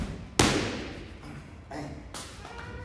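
A Muay Thai kick strikes a training pad in a gym, giving two sharp, loud thuds about two seconds apart over a low room hum.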